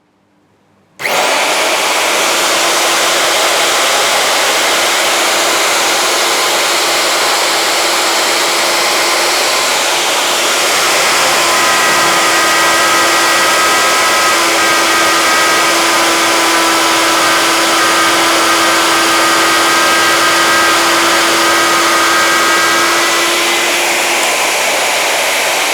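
A Yasuka YER-012 electric router runs at very high RPM, switching on abruptly into a loud, steady whine with a whooshing rush that holds throughout, its pitch shifting slightly partway as it works without any talk.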